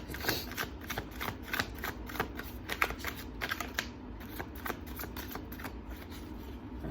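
A thick deck of tarot cards being riffled and shuffled over and over, a steady run of crisp papery flutters and soft slaps, close and fairly quiet, with no talking.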